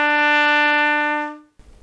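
A trumpet sounds a beginner's E with the first and second valves pressed, one steady, clear sustained note of about a second and a half that fades out, followed by a faint bump of handling noise.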